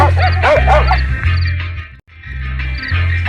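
Several dogs bark and yip in rapid overlapping bursts nearby, loud and agitated, with a short break midway before the barking resumes.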